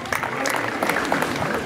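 Congregation clapping together at a church gathering in Asella, a dense steady patter of many hands with crowd noise, over a short stretch with some talk mixed in.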